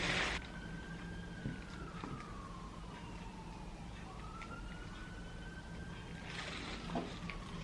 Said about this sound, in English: And an ambulance has just gone by, so that's what the sirens are for